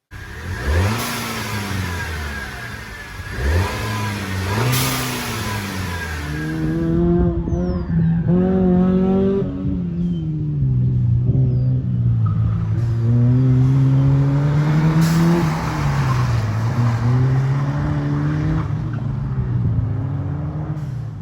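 A turbocharged Mk5 GTI engine with a diverter valve spacer revs up and down repeatedly, pitch rising and falling with each press of the throttle, loud and close, with no talking.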